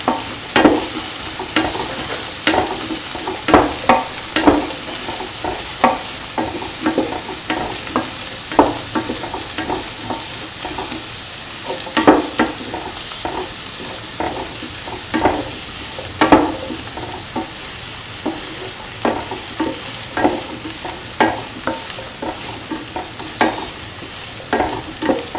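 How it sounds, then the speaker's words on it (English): Ingredients being sautéed in a pan, with a steady sizzle of frying beneath repeated sharp scrapes and knocks of a spoon stirring, fairly close and irregular throughout, no talking. "Saute thoroughly."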